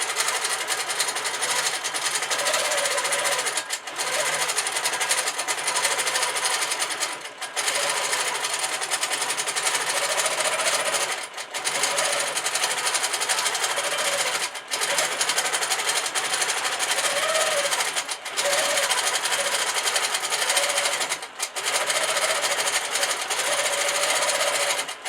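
A sewing machine hammers away almost nonstop at free motion quilting on a large Cathedral Windows quilt, its noisy bobbin rattling loud and close, with only brief pauses every few seconds.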